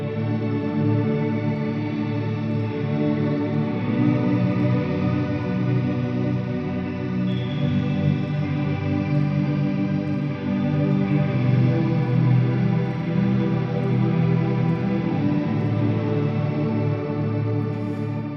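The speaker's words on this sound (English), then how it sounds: "let's add the reverb to see what that changes when we play that" A dense ambient wall of sound with shimmer reverb, a sustained, layered wash of harmonic tones that stays loud and steady throughout, with no voices.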